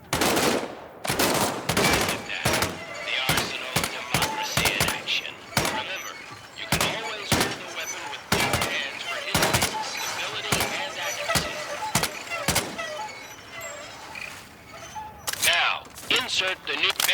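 Weapon fire in the VR shooter Medal of Honor: Above and Beyond, a long run of sharp, loud, close shots in irregular bursts, with a voice speaking between some of them.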